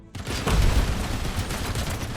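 A grenade blast and a burst of gunfire in the video game Robocop: Rogue City, a loud booming impact followed by a dense, sustained rattle of shots.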